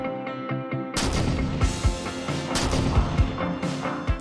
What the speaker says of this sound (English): Here's an example where the sniper shots aren't to the beat.